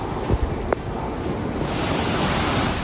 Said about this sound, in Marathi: जम्मूतल्या भटिंडी भागात रस्त्यावरून पाण्याचा जोरदार प्रवाह वाहत होता